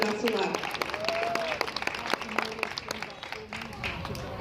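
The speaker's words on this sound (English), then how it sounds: "So everybody give Brady a round of applause" Applause at an 8th grade ceremony, a scattered crowd clapping steadily at moderate volume with voices talking over and among the claps.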